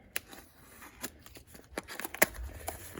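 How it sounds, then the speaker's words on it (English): A razor blade slices through plastic packaging tape in a quiet indoor setting, giving a few short, faint cuts and rustles spaced unevenly through the moment. "So we'll grab a knife real quick. And we will cut that."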